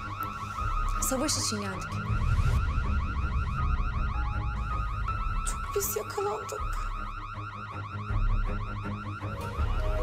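A car alarm sounds continuously, a loud looping electronic tone with a pulsing rhythm inside a hospital, while people talk over it and a low rumble comes and goes underneath.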